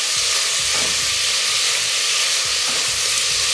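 Chopped onions added to a pan for beef curry fry in hot oil, giving a loud, continuous close-up sizzle with faint stirring scrapes.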